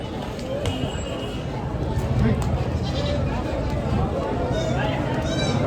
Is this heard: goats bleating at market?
yes